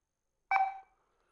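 A single short electronic keypad beep from a 1989 Motorola 4800x mobile phone, close and clear, fading quickly into silence.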